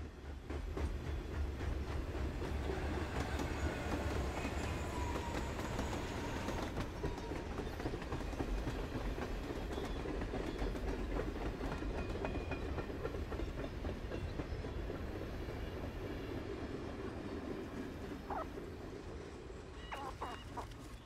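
A train passes in Life is Strange: Before the Storm with a continuous rumbling, clattering roll of wheels on rails that stays steady and fairly close for the whole stretch, with no talking.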